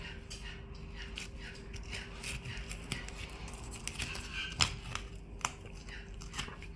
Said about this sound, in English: Just keep working your knife around. Cut that tendon in that ball joint there.